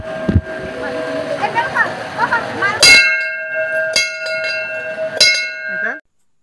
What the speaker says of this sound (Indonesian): Jadi sebelum masuk kita membunyikan lonceng dulu sebanyak 3 kali.